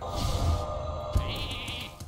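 A sheep bleats in the card game Hearthstone, two short wavering bleats sounding close and clear over faint game music, with no voices.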